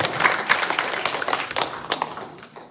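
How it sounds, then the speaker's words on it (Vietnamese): A brief burst of audience applause at a Buddhist dharma talk, many hands clapping in a dense, fairly close patter that tapers off within a few seconds. "Rồi cho một tràng pháo tay hay quá luôn."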